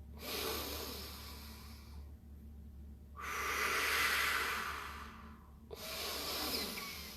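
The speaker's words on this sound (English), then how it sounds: "You're supposed to breathe like this. Exhale. Inhale." Deep belly breathing demonstrated up close: a long, loud breathy exhale, a pause, a strong inhale, another pause, then a further breath. All three are airy and distinct, with no talking.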